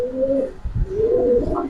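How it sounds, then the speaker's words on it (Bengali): A Sabchila Giribaz pigeon, a male, cooing close by: two soft, low, throaty coos in quick succession, with a brief pause between them. "এটা সাবচিল একটা কবুতর"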